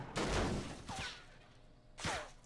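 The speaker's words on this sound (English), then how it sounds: "she's getting shot at" Three sharp bursts of gunfire in Fortnite, loud and close, each a short volley with a brief ringing tail, separated by quieter gaps.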